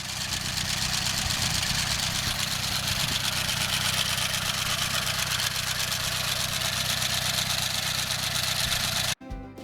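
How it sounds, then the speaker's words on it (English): A Farmall Cub tractor runs steadily with its sickle bar mower in a hay field, a continuous close engine drone with chattering blade rattle that holds for nearly ten seconds before cutting off abruptly. "This is our sickle bar mower in action."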